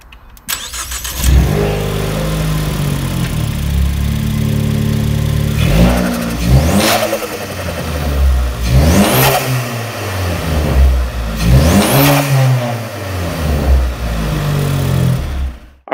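A modified 350 hp 2016 Ford Focus ST with a 2-liter EcoBoost turbo engine idles loudly nearby, then is revved about five times, each rev swelling and falling back with a roaring, whirring tone.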